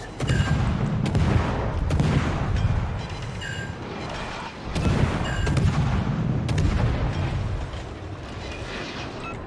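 Sustained heavy naval gunfire from the T8 Kiev destroyer in a naval battle game, with dense booming salvos rolling one after another in two loud waves, continuous and without talk.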